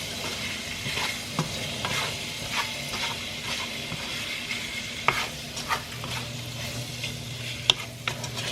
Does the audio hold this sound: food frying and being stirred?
yes